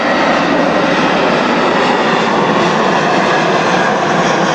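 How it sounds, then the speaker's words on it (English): An airplane passes overhead, its engine a loud, steady broadband roar that holds without a break, with no talk. "That's an airplane."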